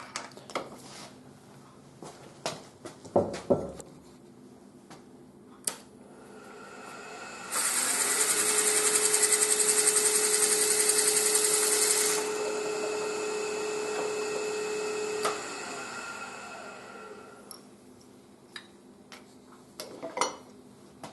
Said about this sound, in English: I'll drill a 3/8 inch hole right now.